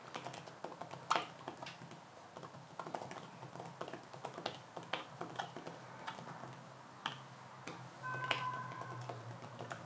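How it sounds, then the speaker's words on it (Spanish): Fingers type on an Apple Smart Keyboard for iPad, producing quiet, rhythmic clicking keystrokes with irregular taps and a few sharper clacks, close up and without any speech. "el sonido de las teclas de esta unidad es inferior, tiene un sonido de calidad y que marca el ritmo cuando estamos escribiendo"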